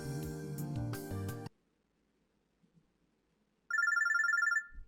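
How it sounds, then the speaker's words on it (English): In the Robotics;Notes Elite video game, a musical passage cuts off to near silence, then a phone gives a quick electronic trill of repeated pulses for about a second. "The phone's ringing."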